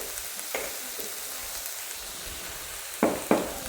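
Onions and tomatoes salted in a hot pan sizzle with a soft, steady hiss, broken near the end by two quick scraping stirs of a spoon.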